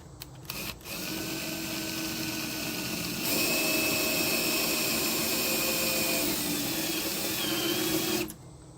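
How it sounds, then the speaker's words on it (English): A steady, high-pitched power drill whirs continuously for several seconds boring a center hole in a mounting plate, rising slightly in pitch midway, then cuts off abruptly near the end. "Then I drill my center hole that'll keep this thing from spinning on me."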